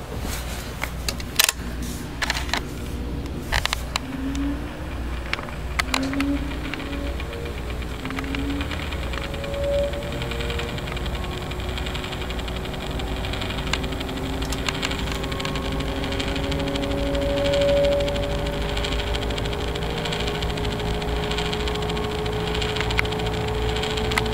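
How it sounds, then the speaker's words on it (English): A Mimar 12-inch four-bladed table fan with a four-pole motor starts up on its low setting, giving a steady hum and a faint tone that slowly rises in pitch as the blades creep up to speed, heard alone. "I'm going to do a startup on all 3 speeds. I'll start with low startup noise."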